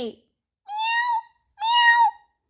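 Two drawn-out cat meows, close and clear, each about half a second long with a brief pause between them.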